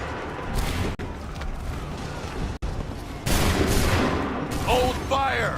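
Volleys of musket gunfire from a massed line of soldiers in the video game Assassin's Creed 3, a loud, dense crackle of shots that swells and sustains across the clip, with shouted battle voices breaking through near the end.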